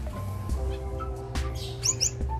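A pet bird that has recovered from egg binding gives several short chirps and tweets over a steady low background hum, closer and louder toward the end.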